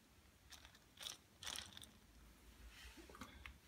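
A worn drum bearing in an Electrolux washing machine is turned by hand and gives off a faint, rough grinding rumble in a few uneven bursts, with quiet stretches between them.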